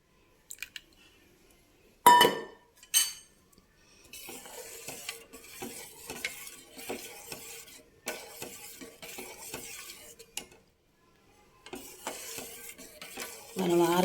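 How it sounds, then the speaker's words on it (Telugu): Jaggery syrup goes into cooled milk vermicelli payasam in a steel pot, with a brief clatter of utensils followed by soft pouring and stirring scrapes that pause and resume, while someone talks over it. "ఇప్పుడు ఇందులోకి మనం బెల్లం పానకం వేసేసుకుందాం."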